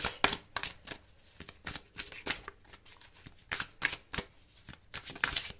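Tarot cards are shuffled for a reading in quick irregular bursts of crisp riffling and slapping, close and clear, with short pauses between shuffles and no voices.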